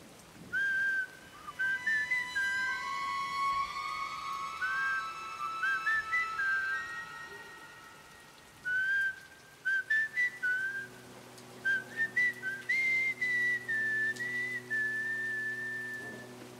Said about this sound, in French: en sifflant